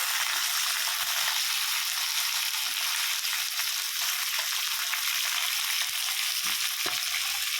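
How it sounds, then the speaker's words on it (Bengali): Fish belly pieces frying in hot oil in a kadai, a dense, loud, unbroken crackling sizzle throughout with a few faint knocks near the end, no speech. "মাছটাও আর একটু ওই পেটিগুলো ভাজছি"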